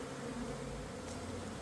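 A swarm of honey bees, some 60,000 strong, hums as a steady, dense drone while being coaxed into a hive box, the buzzing continuous and close throughout.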